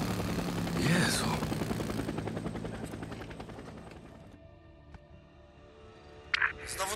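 A NERO helicopter in the video game Days Gone thumps with rotor chop that fades into the distance, followed by quieter ambience and a brief sharp sound near the end.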